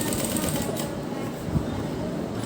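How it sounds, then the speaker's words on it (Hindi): A sewing machine runs steadily, stitching along the edge of a fabric neckline with a frill, its continuous whirring hum filling the clip at close range with no pauses. "उसके बाद हम इसके किनारे किनारे पर इसी शेप में सिलाई लगाते जाएंगे।"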